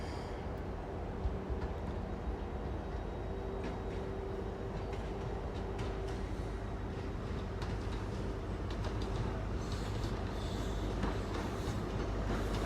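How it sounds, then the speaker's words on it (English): A Great Western Railway Castle set train on the Penzance to Bristol Temple Meads service rolls into Exeter St David's station with a steady low rumble and faint wheel clatter, fairly quiet and continuous throughout. "Coming in now is a Great Western Railway service from Penzance to Bristol Temple Meads."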